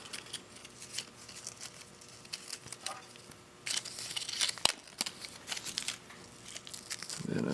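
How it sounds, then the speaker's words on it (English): Velcro backing peeled off a Harley-Davidson Smart Siren 2 motorcycle security siren, a dry crinkling, tearing rasp with scattered crackles that swells louder toward the end. "So I'll remove the backing"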